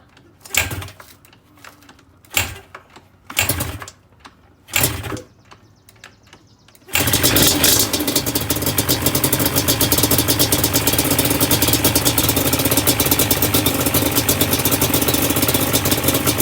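A rebuilt 2005 Yamaha Banshee Special Edition ATV sputters through several short start attempts, then catches and runs loud and continuous, a close, raspy idle that holds steady to the end.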